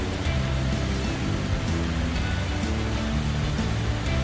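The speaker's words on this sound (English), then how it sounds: "she saw the most fascinating waterfall" Waterfall pouring with a steady, loud, broadband rush of water, constant throughout with no voices, as background for an animated story.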